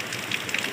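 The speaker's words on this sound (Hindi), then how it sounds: "आपको भी पता चल रहा होगा ना कितने ज़ोर से बारिश है" Heavy rain pouring down during a sudden downpour, a dense steady hiss with scattered brighter drop impacts, close and continuous, with no voices.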